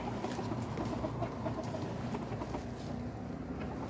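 Backyard chickens clucking softly at dusk, a quiet close cluster of short overlapping clucks and murmurs over a low steady background.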